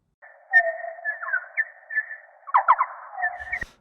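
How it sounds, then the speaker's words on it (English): Soprano pipistrelle bats make social calls, heard as a series of thin, chirping tonal squeaks and short trills repeating irregularly over a few seconds against near silence. "these are pipistrelle sopranos social calls"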